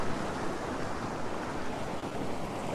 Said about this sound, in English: We've got big waves.